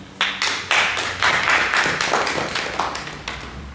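A room full of people claps for Mali at a peace conference on Guinea in Paris, a dense steady burst of applause that rises quickly and carries on evenly for several seconds.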